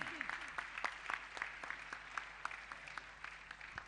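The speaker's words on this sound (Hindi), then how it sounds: "तालियां तो बजनी चाहिए" An audience at a Jain religious gathering breaks into applause, with a fairly quiet, even wash of clapping and some regular, sharper claps repeating steadily throughout.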